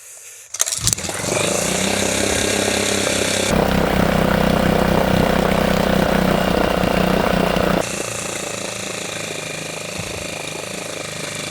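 A Suzuki DF6A outboard motor catches on its first start, a sharp cough followed by a loud, steady buzzing idle that rises in intensity, then settles to a slightly quieter running drone.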